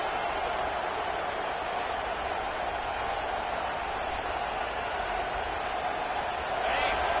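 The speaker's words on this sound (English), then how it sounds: "This crowd, full throat, splitting the eardrums and letting them know it's going to be a long day." In a college football video game, a stadium crowd roars in a steady, dense wash of cheering that fills the whole stretch, with no talking over it.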